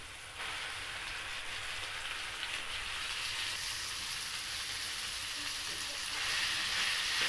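Ground pork sizzles steadily in a pan with garlic, onion and tomato, a continuous hissing fry that stays even throughout and grows slightly louder near the end, with no voices.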